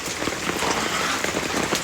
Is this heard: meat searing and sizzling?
no